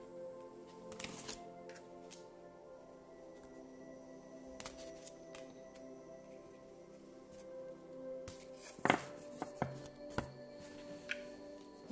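Tarot cards are handled and shuffled close by, giving soft riffling flutters and sharp slaps in scattered bursts against a quiet background.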